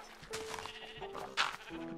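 A sheep in Minecraft bleats a couple of times, a nasal wavering call up close, alongside faint game sounds.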